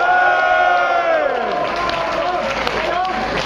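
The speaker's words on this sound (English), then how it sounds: "Let's hear a big cheer for Dan." A crowd at a metal concert at the Audio in Glasgow, Scotland, cheers and shouts for Dan, a loud sustained roar of voices with scattered clapping, while a pitched voice or feedback tone slides downward near the start.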